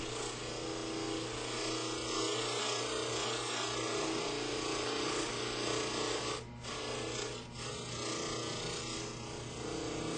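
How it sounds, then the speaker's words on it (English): A dental lathe at slow speed smooths the occlusal surface of a splint, giving a steady close grinding rasp over a constant motor hum, with two brief pauses in contact. "I'm setting the lathe to the slower speed for this."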